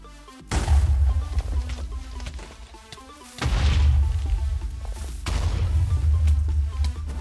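Loud video game explosions boom in repeated bursts, with heavy low rumbling blasts and crashing debris over a few seconds.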